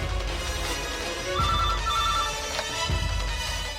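A telephone rings insistently indoors in a Telugu TV serial scene, its electronic trills repeating in short regular bursts over a dull low rumble, clear and fairly close, with no voices.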